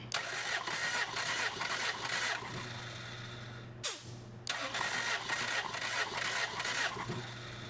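Engine cranking steadily over on the starter during a cylinder compression test, a rhythmic, pulsing mid-pitched churn with a brief pause midway before cranking resumes, close and fairly loud with no talking.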